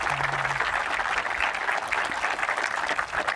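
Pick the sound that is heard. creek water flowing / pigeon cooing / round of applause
round of applause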